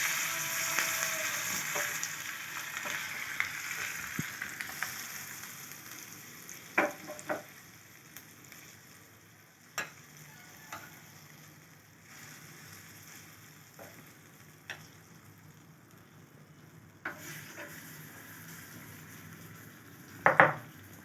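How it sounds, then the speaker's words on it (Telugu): Curry leaves hit hot oil in a tempering for a grated raw mango chutney, giving a steady close frying sizzle with occasional sharp clinks and scrapes of stirring, and no voices. "అలా తాలింపు ఫ్రై అయిన తర్వాత కొంచెం కరివేపాకు వేసుకోవాలి"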